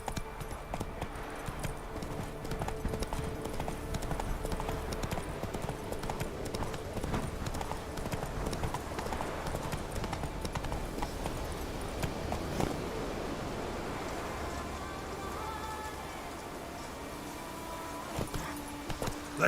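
Horse hooves clip-clop steadily while riding in a video game, a continuous rhythmic trotting under game ambience, fairly close and moderately loud.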